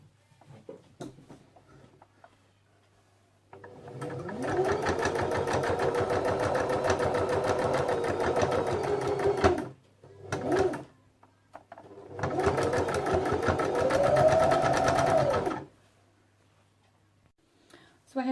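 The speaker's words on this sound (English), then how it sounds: "put the batting on your machine so that you can clearly see where you need to sew." A sewing machine stitches through a patchwork taggie comforter with batting in two long runs of steady motor whir, separated by a brief pause and a short burst, loud and close with no talk.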